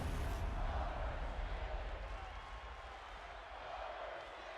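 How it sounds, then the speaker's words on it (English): A large arena crowd in the WWE 2K25 wrestling video game chants and roars as a broad, steady wash of noise that fades slightly midway, with faint commentary underneath. "Hear the crowd chanting Motor City here in New Jersey."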